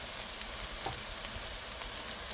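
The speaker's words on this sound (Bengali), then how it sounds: "একটু তেলের ভিতরে ভেজে তারপরে পেঁয়াজটা দিয়ে ব্রাউন কালার করে নেব।" Onions fry in hot oil for a Bengali potato and mutton kosha. A steady, close sizzling hiss runs throughout with faint pops and no voices.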